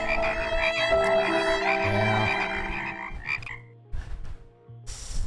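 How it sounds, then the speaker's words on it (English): Frogs croaking in the video game Teenage Exocolonist, a dense, loud run of croaks over a busy tonal game soundtrack, thinning into scattered calls near the end. "Oh shit, frogs!"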